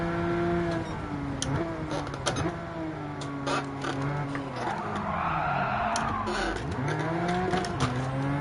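Race car handbrake slide in the Gran Turismo 7 driving game, engine droning steadily with rising and falling pitch while tires squeal and scrub through the skid, loud and continuous.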